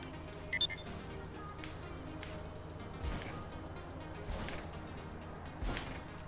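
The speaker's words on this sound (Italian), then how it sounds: "Proviamo l'idraulica." Hydraulic suspension bouncing on a Declasse Tornado in GTA V: a quick cluster of electronic beeps, then three evenly spaced dull thumps about a second apart over a steady low engine hum, with no talking.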